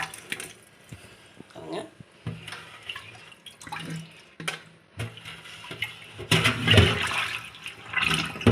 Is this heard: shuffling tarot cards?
no